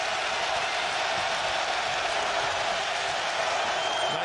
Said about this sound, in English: the crowd alive again in Hartford.